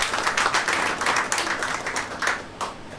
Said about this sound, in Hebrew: ומגיע לכם כפיים